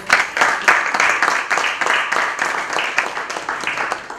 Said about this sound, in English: let's have a round of applause for Aparna,